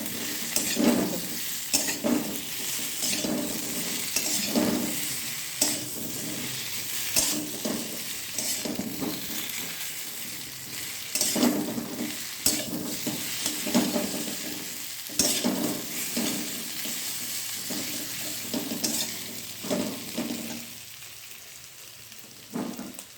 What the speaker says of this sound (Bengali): আমি এর মধ্যে এই ভাজা আলুগুলো মিশিয়ে দিলাম।